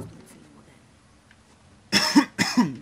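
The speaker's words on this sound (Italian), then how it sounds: "classica ormai tosse che fa parte di questa serie qua" Two harsh, close coughs from a man playing Uncharted: The Lost Legacy, following a quiet stretch of game ambience.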